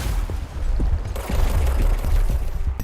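Supernatural service weapon firing in the video game Control, a loud burst of rapid, rumbling shots with a deep booming low end that keeps going for a few seconds.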